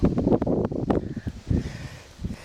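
Strong gusty wind buffets the microphone in uneven bursts, with rustling and rumbling that rise and fall, outdoors in Ukraine during metal-detecting.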